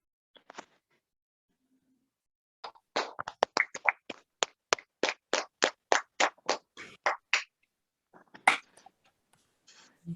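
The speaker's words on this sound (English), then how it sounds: "Clap your hands." Hands clap at a talk on stress and depression, a run of about fifteen sharp, evenly spaced claps after a few scattered ones, with brief pauses and a louder burst near the end.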